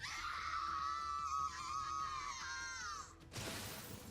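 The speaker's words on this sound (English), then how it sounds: "Stricken Hersher gave a scream louder than the thunderous cacophony" A Herrscher in Honkai Impact 3rd lets out a long, loud, wavering high-pitched scream that holds for about three seconds, then cuts to a burst of noisy crashing.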